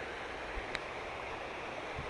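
The Deep River flowing past, a soft, steady hiss of moving water heard faintly and alone, broken by one brief sharp tick.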